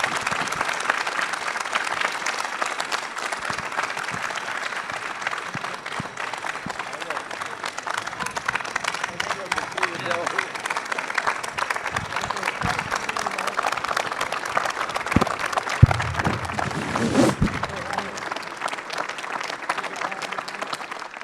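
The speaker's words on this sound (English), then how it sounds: "Can I get a round of applause?" Audience applause after an Apollo anniversary panel discussion, steady clapping from a crowd lasting about twenty seconds at moderate level, with some voices mixed in toward the end.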